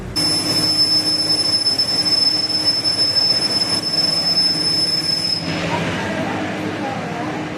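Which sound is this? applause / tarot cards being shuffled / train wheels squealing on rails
train wheels squealing on rails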